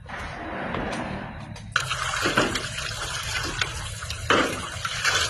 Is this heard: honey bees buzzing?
no